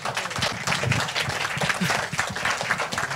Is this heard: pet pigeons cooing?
no